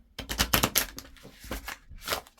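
Tarot cards are shuffled in quick riffling bursts, a run of close, crisp flutters and snaps followed by a few softer slaps, all in a quiet room.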